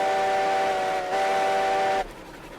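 A steam locomotive whistle in the railroad game RailRoads Online, one loud sustained steady tone with a short break, stopping abruptly before low engine background continues alone.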